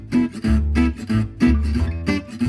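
Gypsy jazz rhythm guitar plays la pompe with a full swing feel, steady strummed chords on each beat with short muted accents, close and alone.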